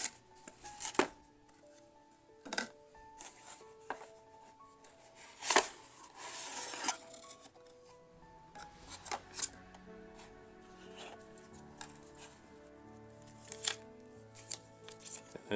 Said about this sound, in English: Let's open the box.